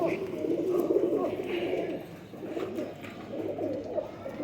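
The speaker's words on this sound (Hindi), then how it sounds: "ये नवीद भाई ये बहुत अच्छे घर के कबूतर हैं" Breeding pairs of domestic pigeons coo softly and repeatedly at close range, low rolling calls over a busy background with some faint voices.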